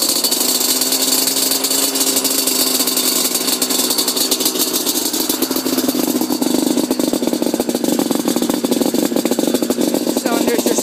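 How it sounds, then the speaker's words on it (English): A Yamaha Banshee ATV's two-stroke engine idles steadily and loud from start to finish, with a faster rhythm and a busier, rising sound toward the end. "Might as well start it up for a last startup video."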